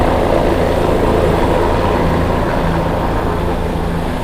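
A helicopter flying over New York City gives a steady, loud, broadband rumbling drone that holds constant throughout, with no voices.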